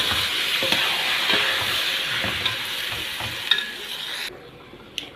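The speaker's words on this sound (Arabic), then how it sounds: "هنزل بقى بالرز بتاعي كده على طول" Rice is stirred into a hot frying pan with sautéed ingredients, giving a loud, steady sizzle with scraping stirs and occasional clinks, close by, before the sizzle suddenly drops away near the end; no talking.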